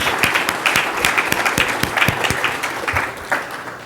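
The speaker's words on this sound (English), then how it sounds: "So please give them a round of applause," Audience applause for a volunteer organizing team at the NewSpace 2015 conference opening keynote, a steady wash of many hands clapping with sharp individual claps standing out, sustained and fairly close for about four seconds.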